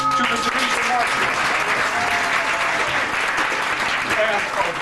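An audience claps loudly and steadily for the Denise and Mark team at a 1999 Prudential appreciation event, the dense applause continuing without a break and a voice faintly audible beneath it.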